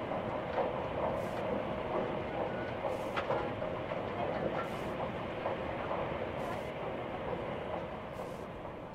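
A Shinkansen Hikari bullet train from before 1975 runs at about 210 km/h, a loud continuous rushing roar with rhythmic clattering and periodic bursts, while a narrator speaks over it.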